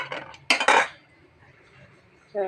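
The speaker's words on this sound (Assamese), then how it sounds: "মই কেৰাহীৰ পৰা ঢালি দিছোঁ।" Egg and potato curry is tipped out of a metal wok into a serving dish, with a few loud close scrapes and clinks of metal on metal, then quiet, and no talking.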